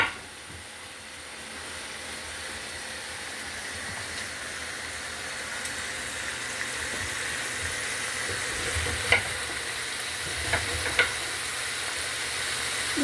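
Cabbage chunks fry in a pan with a steady, even sizzle and hiss, broken by a few sharp pops and clicks near the end, with no talking.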